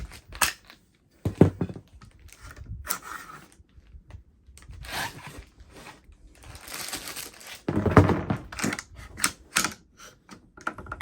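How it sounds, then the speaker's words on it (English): The dust shield comes off an ATI Galeo 5.56 Galil pistol in a close series of irregular metallic clicks, snaps, rattles and scrapes, some sharp and louder, with brief quiet gaps between them. "let's take off the dust shield"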